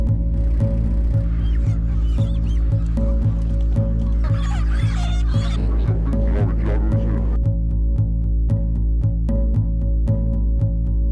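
Crowded chickens cluck and squawk loudly inside a poultry house during collection, over a steady mechanical hum and a rhythmic ticking.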